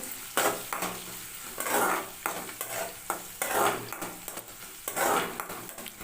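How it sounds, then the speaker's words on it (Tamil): Onion and dried red chili sauté in a pan while being stirred, with a sizzling hiss broken by repeated scraping strokes of a utensil against the pan. The sound is close and fairly loud, with no talking. "வரமிளகா ஒரு வெங்காயத்தில் பாதி வெங்காயம் இதெல்லாம் சேர்த்து நல்லா வதக்கிக்கலாம்"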